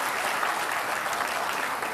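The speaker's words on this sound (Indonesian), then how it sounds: "Kita beri tepuk tangan untuk Pak Anies Rashid Baswedan." Sustained applause from a studio audience for Anies Baswedan at the final Jakarta gubernatorial election debate, an even, dense roar of clapping with no talk over it.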